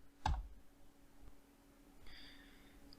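A single sharp computer mouse click near the start, close and crisp, followed by quiet room tone and a faint high tone later on.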